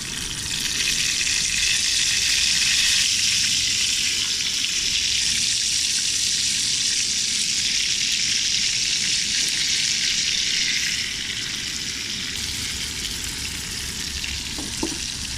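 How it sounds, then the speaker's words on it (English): Fresh Fanny Bay oysters frying in rendered grease outdoors on a Vancouver Island shore, producing a loud, continuous hissing sizzle that holds for most of the stretch and eases slightly near the end, with no speech. "We're just going to see how much grease we can wind up with here and then fry the oysters in that."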